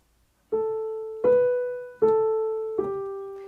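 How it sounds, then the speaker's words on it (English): A beginner's piano plays one bar legato under a slur: four connected notes, each struck clearly and sustaining smoothly into the next with no gaps, close and moderately loud with no talking. "And legato with the slur would sound like this."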